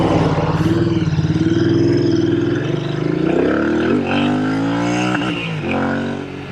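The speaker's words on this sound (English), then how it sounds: "We hit the rev limiter." Royal Enfield INT650 twin-cylinder motorcycle revs hard up to the rev limiter, a loud close engine roar climbing in pitch and then bouncing off the limiter with a stuttering cut before falling away.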